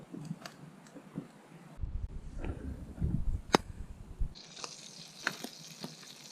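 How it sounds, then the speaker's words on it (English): Butter heating in a frying pan over a campfire in the Swedish wilderness gives a soft, continuous sizzle and crackle. It is fairly faint, with outdoor wind rumble and a few scraping clicks of the pan alongside it. "I'm gonna take my butter here, put it in here and hot it up"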